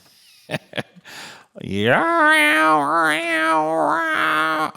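A cat caterwauls in a long, wavering, tuneful yowl, loud and close, as if singing Christmas carols, after a few short clicks and breaths; it sounds much like a voice imitating the cat.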